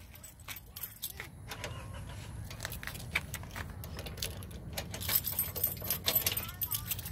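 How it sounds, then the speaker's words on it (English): Keys for a pop-up tent trailer's hitch lock jangle and clink repeatedly up close outdoors, with a low vehicle-like rumble underneath and some scattered handling noises. "And then you'll have keys for the lock to unhitch it."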